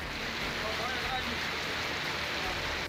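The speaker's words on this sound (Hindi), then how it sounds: "वहीं अहमदाबाद में आसमान से बारिश आफत बनकर बरस रही है।" Heavy monsoon rain pours down in Ahmedabad as a dense, continuous hiss of water that stays steady and loud from start to finish.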